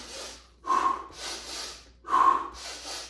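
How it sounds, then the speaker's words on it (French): Two sharp, energetic inhalations through the nose, about a second and a half apart, each loud and close with a short breathy tail, no voice. "Plus j'inspire dynamique"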